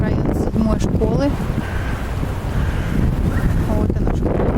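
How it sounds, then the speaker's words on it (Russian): Strong wind blowing along a street near a school in Anapa in February, a steady loud rush buffeting the microphone throughout with no clear pauses. "Сегодня в Анапе ветер."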